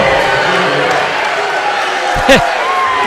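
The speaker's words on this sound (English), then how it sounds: "Gatesville crowd giving it to the refs there" A high school gym crowd at a Gatesville vs Gateway boys basketball playoff game voices loud displeasure at a foul call, a steady mass of shouting with a sharp slam or bounce near the end.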